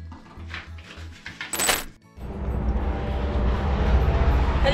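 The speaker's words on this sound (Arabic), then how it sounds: "هليكوبتر" A helicopter roars overhead, its loud, steady broadband drone and low rotor thumping rising suddenly after a few seconds of quieter clicks and light rattles.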